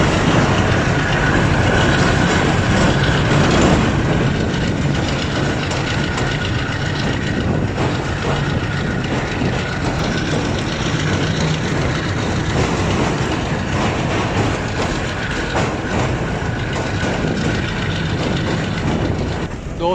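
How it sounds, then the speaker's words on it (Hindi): Loud and continuous from start to finish, the Bahauddin Zakaria Express passenger train rolls along the rails near Kotri and Hyderabad Junction in Pakistan, with a steady close-up rumble and faint clickety-clack of wheels on track joints. "Bahauddin Zakaria express Hyderabad junction railway station के प्लेटफॉर्म नंबर 3 पर एंटर हो रही है"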